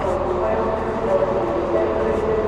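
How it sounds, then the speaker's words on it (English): A steady low rumble and hum of a train in Edinburgh fills the clip, continuous and fairly loud, like being aboard or beside a moving carriage. "So that's the train."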